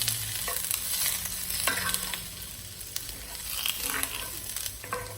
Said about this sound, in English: stir frying up some onions